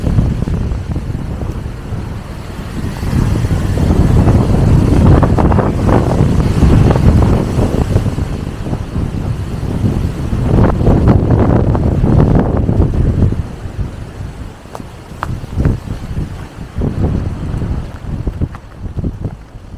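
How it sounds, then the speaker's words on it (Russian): Hurricane-force storm wind on the Black Sea coast in Odessa, roaring and buffeting the microphone continuously, with rough sea and surf churning beneath the gusts. "Вот сейчас не просто ветер сильный, сейчас реально ураганы."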